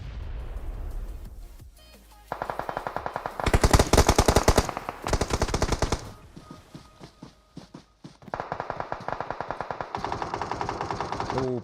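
Automatic gunfire rattles through a PUBG Mobile esports match, arriving in rapid bursts of repeated shots, some loud and close and others more muffled, separated by short pauses.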